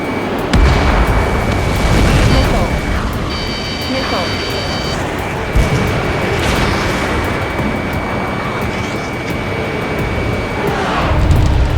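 Missile launch and explosions from the Ace Combat 7 air-combat game: a steady loud roar with heavy booms rising throughout, tonal warning beeps near the start, and radio voices talking over the din.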